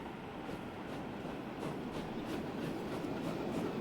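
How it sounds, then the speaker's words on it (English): Branchline trains roll into a station in the Transport Fever 2 simulation game, a continuous rumble with rhythmic clickety-clack from the wheels, moderately quiet and steady throughout. "All the Branchline trains have actually managed to get in."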